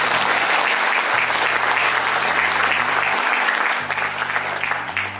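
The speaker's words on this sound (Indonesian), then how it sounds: "Kita beri tepuk tangan buat Anda." Audience clapping at a sales training seminar on handling client objections, steady and full throughout, easing slightly near the end, with a low tonal hum running underneath.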